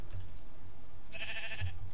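A single Minecraft sheep gives a short, clear nasal bleat near the end of a quiet, steady game ambience. No one talks over it.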